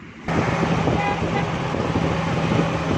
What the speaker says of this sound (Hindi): ये देखें दोस्तों, इसमें अब गाड़ी हमारी स्टार्ट हो गई है।